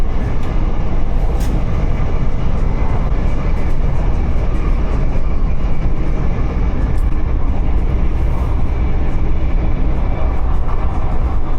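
Steady, loud rumble of a Thameslink train carriage on the run from Farringdon to St Albans City, with continuous rail and wheel noise throughout and no talking.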